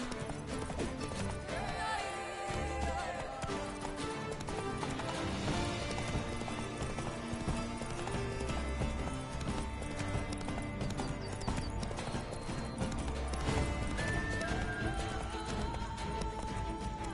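Roach, Geralt's horse in The Witcher 3, galloping with a rapid clip-clop of hooves beneath dense, constant game music, an occasional whinny-like tone rising near the end.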